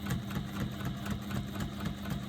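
A sewing machine runs a straight seam across fabric panels for a bag, producing a steady, continuous mechanical hum with a rapid, even stitching rhythm, close and moderately loud with no voices.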